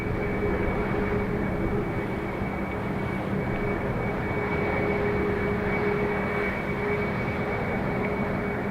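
An airplane takes off from Dublin Airport, bound for London Luton, its engines a loud, steady roar with a faint high whine that holds level throughout.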